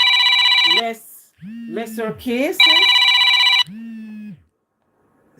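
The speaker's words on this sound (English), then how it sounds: "I'm sorry about that phone call in the middle of our" A telephone rings during a call in bursts of bright electronic trilling, loud and close, cutting over a man's speech before stopping.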